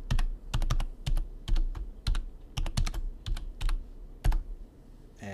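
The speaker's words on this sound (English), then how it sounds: "we just hit enter, and we enter our password" Password being typed on a computer keyboard during a Debian 9 software install, a brisk irregular patter of close plastic key clicks in short bursts, with no talk.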